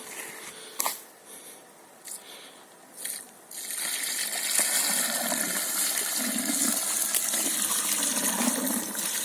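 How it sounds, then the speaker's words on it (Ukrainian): Buckets of water poured into a hole outdoors, a few light knocks and handling sounds before a steady, close gushing splash takes over and continues to the end. "Так, ми принесли ще два відра води. А ну Данік, заливай."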